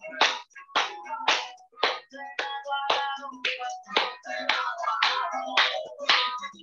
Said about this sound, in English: Now clap.